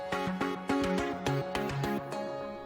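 Serum synth preset driven with heavy distortion and multi-band compression plays a bright, buzzy, rhythmic pattern of stabbed chord notes, close and fairly quiet, alone without any voices.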